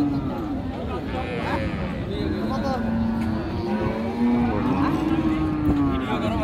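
Deshal-Sahiwal cattle lowing at the Raniganj haat cattle market, drawn-out low moans blending into a busy crowd, with people talking close by throughout.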